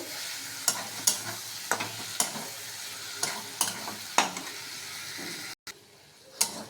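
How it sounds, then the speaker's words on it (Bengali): Bombay duck fish stir-frying in oil in a pan, giving a soft steady sizzle broken by sharp spatula scrapes and stirring knocks at irregular intervals, close and alone. "এবার আমি লোটে মাছটাকে দিয়ে দেব এর মধ্যে। দিয়ে ভালো করে কষাতে থাকবো।"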